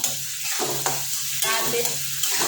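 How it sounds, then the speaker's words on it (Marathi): Soaked moong dal sizzles steadily in hot oil tempering in a pan, with a continuous bright frying hiss and scraping stirs coming at a roughly even rhythm, loud and close, with no talk. "भिजवलेली मुगाची डाळ घालायची, मस्तपैकी फ्राय करून घ्यायची, चांगला हलवून घ्यायचं"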